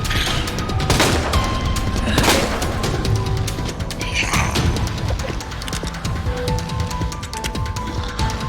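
Heavy magnum gunshots from the video game Resident Evil 2 Remake boom out in a spaced series of loud, close blasts over dense game noise and clatter, with no talk.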